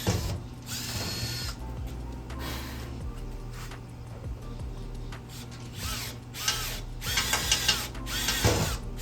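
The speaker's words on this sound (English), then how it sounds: "So let's drill." A drill works a hole for a rear bumper install on a third-generation Toyota Tacoma, with intermittent whirring bursts and mechanical clicks, fairly quiet and close, rising and falling across the stretch.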